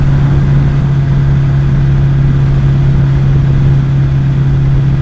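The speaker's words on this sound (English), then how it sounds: "The aero exhaust really made a difference from the sound of the stock pipes." An MV Agusta Brutale 1090RR motorcycle with an aftermarket exhaust idles steadily with a deep, throaty exhaust rumble, close and loud, holding an even tone throughout.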